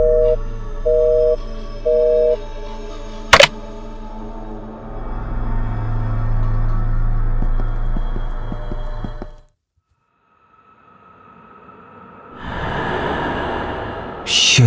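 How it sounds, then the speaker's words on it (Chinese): An incoming phone call signal in the PC game The Bad Kids: three short repeated tones at the start, a sharp click, then a long droning hum that cuts out and returns. "又有电话打进来了"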